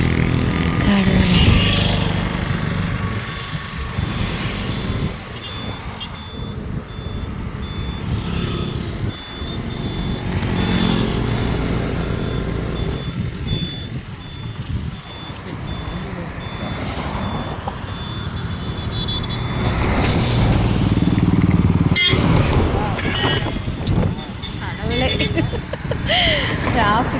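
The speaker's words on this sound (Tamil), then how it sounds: "டிராஃபிக் தான், ஓவர் டிராஃபிக்." Heavy road traffic on the coastal road near Pondicherry, with motorcycles and trucks rumbling past and engines idling, a steady loud roadside din with a beeping tone and passing horns, while a person talks over it.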